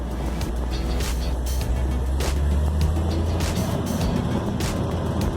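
A 1956 Chevy drives in second gear, its engine roaring loudly and continuously up close, with rattling and intermittent clunks over the drone.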